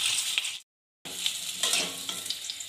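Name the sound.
potatoes frying in mustard oil in a wok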